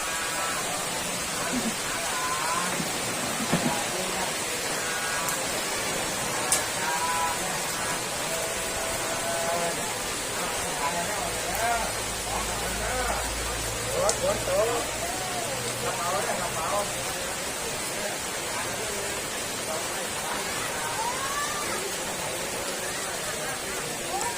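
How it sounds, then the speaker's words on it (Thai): Steady rain falling outdoors at Kham Chanod, a continuous even hiss throughout, with people talking and other faint background activity mixed in. "ฝนลงมาพอดีครับ"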